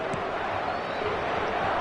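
Large stadium crowd at a football match in a video game, a steady loud roar of many voices with no breaks.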